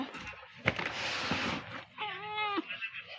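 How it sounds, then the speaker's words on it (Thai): A cat meows indoors, a drawn-out harmonic call near the end following some louder rustling and handling noise, fairly close and clear. "นี่คือแมวของผม"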